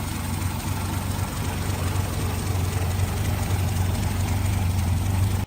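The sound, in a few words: Chrysler 225 cubic inch slant six engine running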